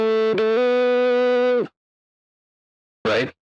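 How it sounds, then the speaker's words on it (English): A voice run through a distortion effect in FL Studio holds a buzzy, harmonic-rich tone for about a second and a half, cuts to silence, then gives a short gritty burst near the end. "I'm going to turn on the distortion here and show you."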